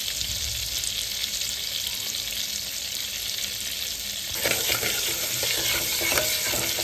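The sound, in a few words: cumin sizzling in Amul butter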